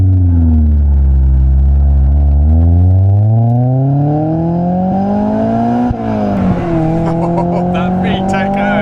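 Honda Accord Euro Type R engine revving hard through the VTEC range, a loud, close, rising howl with stepped pitch climbs and a brief dip near six seconds before climbing again.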